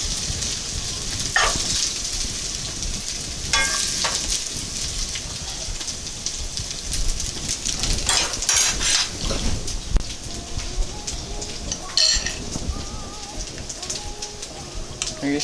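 Spaghetti in garlic herb sauce stirred in a pot on the stove, a steady wet sizzling hiss throughout with intermittent scraping and clacking of the utensil against the pot, close and fairly loud.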